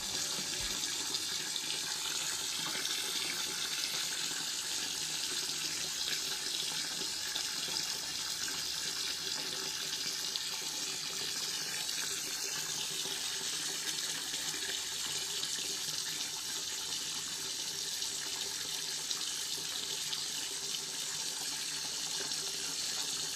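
Tap water in a home in the Hay al-Muhandisin area of Al-Qibla, Basra, runs steadily from a faucet as a loud, close, continuous splashing stream into a sink, unbroken for the whole stretch with no talk.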